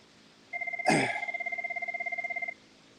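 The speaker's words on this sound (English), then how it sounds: "Gotta answer the phone." A telephone rings on air during a live talk radio broadcast, a steady trilling electronic ring lasting about two seconds, loud and close, with a brief burst of noise at its start.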